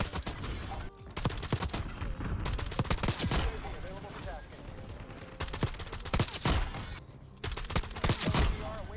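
Feng 82 light machine gun in a first-person shooter video game, rattling off repeated bursts of rapid automatic fire with loud sharp cracks over continuous game ambience, with a voice talking at times.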